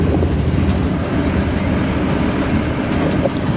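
Steady loud rumble and rattle of a passenger train in motion, heard from inside a carriage travelling near Vác in Hungary, a continuous close roar of wheels and car noise with no talk.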